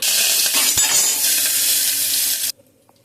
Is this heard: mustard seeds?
yes